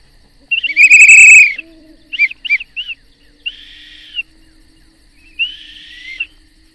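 A person imitates a snipe bird's mating call outdoors, voicing loud whistled and hooting calls: a long shrill note, three short chirps, then two drawn-out whistles with quiet pauses between.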